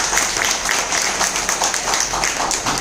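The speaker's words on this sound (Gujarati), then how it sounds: "પટેલ સાહેબ માટે જોરદાર તાળી દઈએ" A seminar audience at a business event in a hotel claps together, a dense and steady patter of many hands that holds at an even level throughout.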